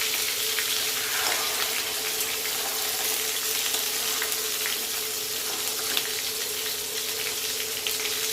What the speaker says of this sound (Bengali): দেখুন লালচে লালচে করে ভেজে নিয়েছি।